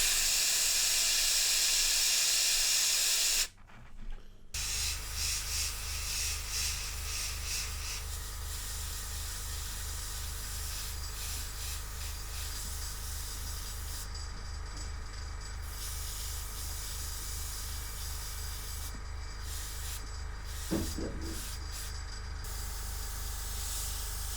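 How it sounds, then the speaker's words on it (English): Airbrush spraying paint onto details of a 1/200 scale HMS Hood model ship, a close, steady hiss that starts after a brief pause and runs on continuously with slight interruptions, with no talking. "I can come back in with the airbrush and paint all these other details in"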